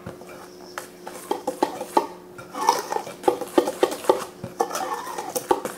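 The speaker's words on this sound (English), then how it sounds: "We're just going to stir this flour." Seasoned flour being stirred in a bowl for fish batter, heard as a run of close scraping clicks and taps of utensil against the dish in an uneven rhythm, with no talking.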